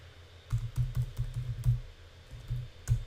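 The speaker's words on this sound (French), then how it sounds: "je tape le mot de passe avec un clavier américain" Quick keystrokes tap on an American-layout computer keyboard as a password is typed, in an irregular burst, close and fairly quiet, with a short pause before a final key press.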